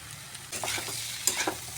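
Soybeans and potatoes sizzle with spices in a pan while being stirred, a steady close hiss followed by a louder run of scraping and turning strokes, with no voices.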